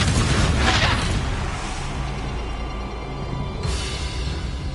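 Confringo blasting spell going off in Hogwarts Legacy, a loud booming burst up front that decays into a sustained roar, with a second sharp blast a few seconds later.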